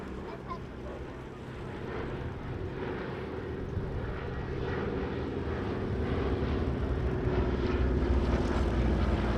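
Steady, loud drone of a Douglas DC-3 Dakota's piston propeller engines running continuously, a dense low rumble that builds slightly over time with no voices.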